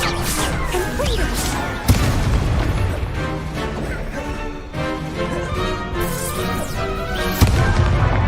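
Confringo blasting spell in a Harry Potter video game, loud booming explosions with sharp cracks layered over busy game music and effects, a couple of distinct heavy impacts standing out.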